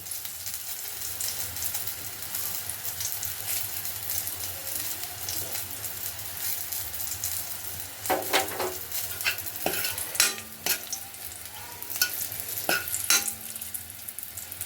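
Garlic and asafoetida frying in a pan as the base for a Maharashtrian pomfret curry: a soft, steady sizzle with scattered clinks and scrapes of a spoon stirring toward the end, no talking.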